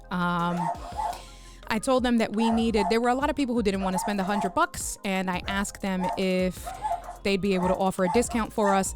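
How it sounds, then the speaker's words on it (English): Pet dogs barking and yipping indoors during a live stream, repeated sharp barks and whiny yelps that keep coming over several seconds, loud and close, mixed with a person talking. "you can hear my doggies in the background"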